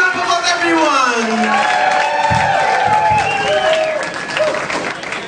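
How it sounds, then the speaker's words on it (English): A vaudeville variety show audience in New Orleans claps and cheers loudly with whoops rising above the applause, while a voice carries over the noise. "Give her a big round of applause"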